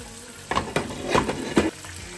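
Pieces of rohu fish frying in a pan, with a soft sizzle broken by a few louder spattering bursts and light scraping at close range.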